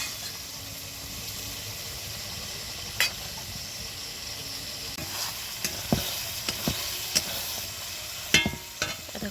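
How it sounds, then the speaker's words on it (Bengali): Spice paste sautéing in a pan for chicken kosha, a steady close sizzle with occasional sharp scrapes and clinks of a spatula stirring through it, no voices. "এখানে মাংসর জন্য মশলাটাকে আগেই কষিয়ে নিচ্ছি।"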